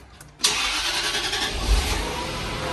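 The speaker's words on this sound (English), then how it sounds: "We'll see if the booster mode can jump start the car." A car engine cranks briefly and catches, jump-started by a Fanttik T8 APEX compact jump starter in booster mode, then settles into a loud, steady idle close by.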